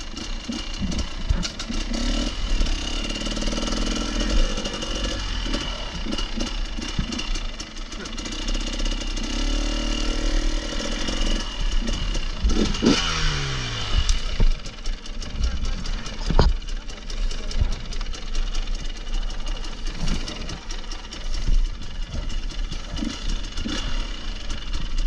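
Trial motorcycle engine idling and revving on rough trail ground, a mid-pitched chugging with occasional blips and a rising rev, under frequent talk from nearby riders.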